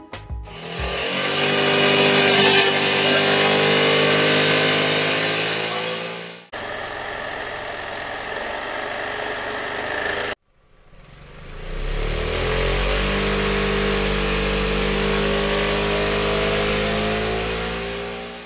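A Piaggio MP3 500 HPE Sport Advanced scooter engine revs hard on a dynamometer in three long pulls, climbing in pitch and holding at high revs, loud and close, with brief drops between runs.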